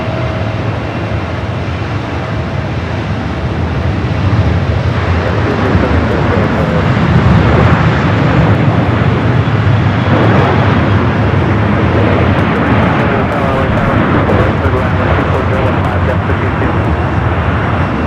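A jet airliner roars steadily at Los Angeles LAX airport, a loud broadband engine rumble that swells slightly midway and holds close and continuous throughout.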